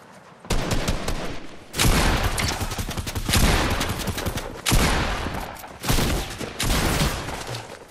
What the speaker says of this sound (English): I'm being shot from all angles.